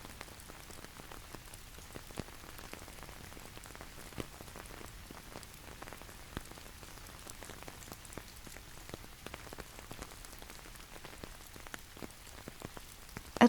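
Quiet, steady rain falls in Kruger National Park, pattering evenly on the surface with scattered individual drops ticking through a faint, continuous hiss.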